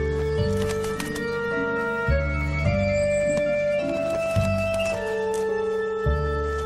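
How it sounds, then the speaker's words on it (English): Ravens in Siberia calling while playing, a mix of resonant croaks and tonal calls near the listener, repeating in irregular bursts over a continuous background. "ravens are one of the few animals that act silly just for the sheer joy of it"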